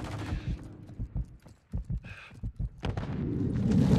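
Rapid bursts of gunfire in the online shooter Call of Duty: Modern Warfare 3, played on the Terminal map during a Domination match, crackling in close, uneven volleys that build toward a dense roar.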